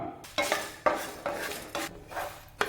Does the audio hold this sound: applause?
no